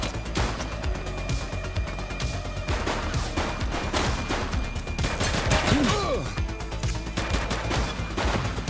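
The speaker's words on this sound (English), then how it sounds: "Shooting!" Rapid gunfire in the police video game The Precinct, bursts of shots and automatic fire crackling over several seconds with crashes mixed in, dense and loud with game sounds layered underneath.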